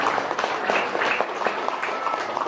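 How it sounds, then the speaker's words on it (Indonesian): An audience claps in sustained, dense applause, fairly soft and even with many overlapping hands and no pauses. "Tepuk tangan buat"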